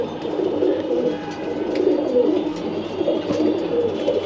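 Racing pigeons in a loft coo steadily together, a dense overlapping murmur of low throaty calls that carries on without pause and with no talking.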